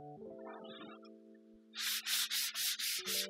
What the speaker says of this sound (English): I think just a touch of sandpaper on that tenon will just loosen things up